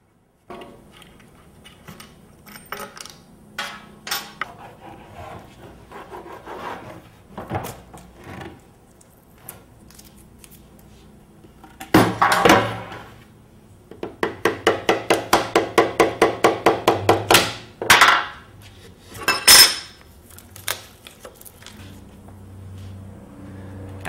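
A cured resin stator mold for a wind turbine is pried open, a run of knocking, scraping and rapid rattling clicks in bursts, fairly close and loud, with quieter handling sounds before it.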